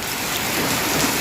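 Heavy rain pours steadily outdoors, a dense, unbroken hiss of drops close by with no pauses across the short stretch.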